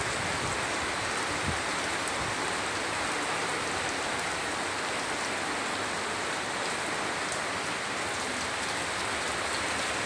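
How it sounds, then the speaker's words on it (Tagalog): Heavy rain from a low pressure area pours down in a loud, steady, unbroken wash of dense drops hitting surfaces, close by and with no talking. "Napakalakas ng ulan dito."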